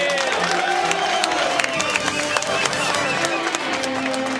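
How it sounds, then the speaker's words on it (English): Football stadium crowd in Indianapolis at a 1999 NFL playoff game, a broad roaring murmur with scattered claps and shouts rising under a commentator's voice. "This crowd here in Indianapolis is in absolute shock"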